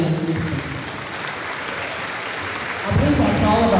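An audience at a school band concert applauds a music teacher, steady clapping that eases slightly in the middle and then swells louder toward the end.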